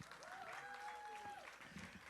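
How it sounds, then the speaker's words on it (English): Audience applause at a celebration honoring the legacy of Dr. Martin Luther King Jr., a brief spell of clapping with cheering voices and a tonal whoop rising over it. "And give a good round of applause for Mr. Ed Wisdom III."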